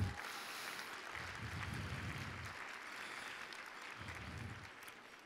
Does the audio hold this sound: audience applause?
yes